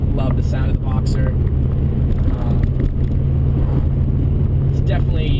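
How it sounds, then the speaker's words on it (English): A 2004 Subaru WRX boxer engine with an Invidia Q300 catback exhaust drones steadily in a low rumble heard from inside the car, under someone talking. "just love the sound of the Boxer."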